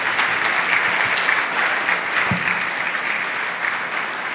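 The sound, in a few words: applause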